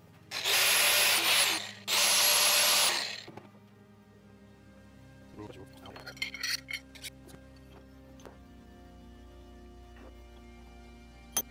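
Two loud bursts of a power drill driving screws into the cleaned screw holes of a 1946 Wilton Bullet vise, each about a second long, followed by faint metallic clicks and handling noises.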